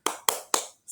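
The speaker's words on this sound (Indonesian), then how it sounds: "Tepuk semangat." Three crisp, evenly spaced hand claps sound close and loud, with a fourth beginning as it cuts off, a rhythmic spirit clap during a classroom lesson.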